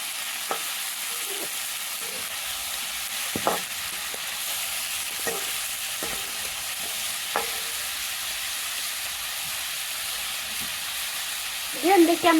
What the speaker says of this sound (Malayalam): എന്നിട്ട് ഇതിലേക്ക് നമ്മൾ കട്ട് ചെയ്ത് വെച്ച കോളിഫ്ലവറും ചെയ്യുന്നു ഇട്ട് നന്നായിട്ട് മിക്സ് ചെയ്യും